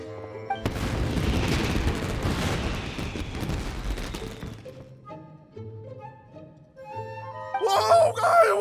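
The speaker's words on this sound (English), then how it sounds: "Yoimiya, this is turning into a bit of a fireworks display." Fireworks bursting in Genshin Impact: a dense crackling, booming barrage for several seconds that then drops away to gentle melodic music, with a few sparkly pops near the end.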